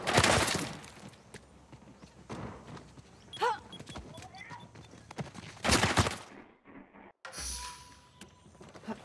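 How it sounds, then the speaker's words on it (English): Bursts of gunfire crack out in the PS4 game Uncharted 4: A Thief's End, a few loud volleys separated by quieter stretches with faint voices and game effects in between. "Should probably just follow the gunfire"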